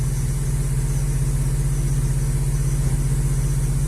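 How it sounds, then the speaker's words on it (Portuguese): A Chevrolet Kadett GSI engine idles close up, a steady low rhythmic rumble with a constant hum and no changes in speed. "Eu vou ligar o carro para vocês verem que não é um problema de uma bateria mais fraca."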